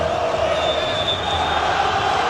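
Vasco da Gama fans in a football stadium during a Copa do Brasil semifinal, a steady distant crowd roar with sustained chanting tones under a commentator's voice.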